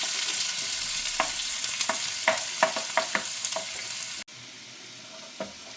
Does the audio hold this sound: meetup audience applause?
no